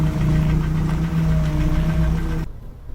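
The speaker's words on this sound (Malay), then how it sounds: "Bila power steering bunyi macam ni" Car power steering with fluid due for changing, heavy to turn, gives a steady low droning whine with engine hum for about two and a half seconds before cutting off abruptly.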